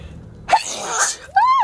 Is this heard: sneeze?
yes